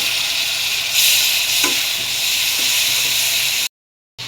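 Shrimp tossed into ground chili, turmeric and cumin frying in mustard oil set off a loud, close, hissing sizzle with brief stirring scrapes before it cuts off abruptly.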